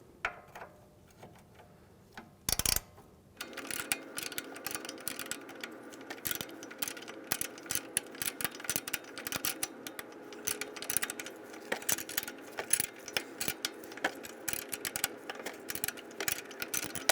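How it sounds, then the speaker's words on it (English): A wrench clicks and ratchets while backing off a 19mm nut on the sway bar link of a 2015-2019 Hyundai Sonata strut assembly, giving a steady run of close metallic ticks after one short louder burst. "And we're going to use a wrench on the nut"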